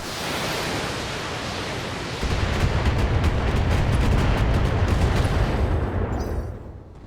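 LRM missile fire in the BattleTech mech game gives a loud, dense rushing roar that swells after a couple of seconds into a sustained rumbling barrage, then fades at the end.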